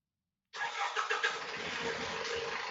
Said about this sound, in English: If you can hear a car, I apologize